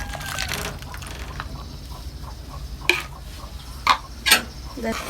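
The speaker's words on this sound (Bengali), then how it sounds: "এখন আমি দুধটা ঢেলে দিতেছি।" Mixed powdered milk goes into a pan for a quick sweet and is stirred, giving a soft continuous scraping patter broken by a few sharp metallic clinks of utensil against pan, heard up close without talk.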